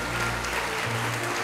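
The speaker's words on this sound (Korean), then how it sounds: "큰 박수로 맞이해 주시기 바랍니다." Steady applause from an audience fills the space, a continuous wash of clapping with no voices over it.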